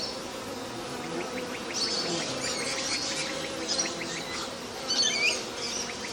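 Honeybees at a backyard hive make a steady, close buzzing drone that swells and fades as individual bees pass, with a few bird chirps in the background.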